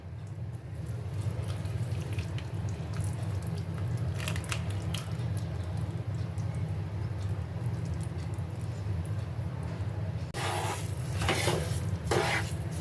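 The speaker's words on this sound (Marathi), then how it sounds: "आणि सर्व मिश्रण परत एकत्र करायचं आहे" Amrut pak barfi mixture being stirred in a pan after the sugar syrup is added, a steady low scraping churn with faint clinks and a brief louder rattle of the spoon near the end.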